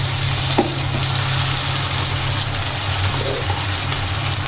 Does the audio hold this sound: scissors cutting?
no